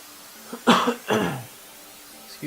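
Two quick, close coughs in a row with a throaty, clearing quality from a gamer at his desk, clear against a quiet room and with no talk.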